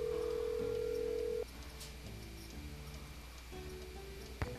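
In the Nancy Drew game The Curse of Blackmoor Manor, a phone call home plays a quiet electronic tone that cuts off, followed by soft, irregular ringing and ticking pulses.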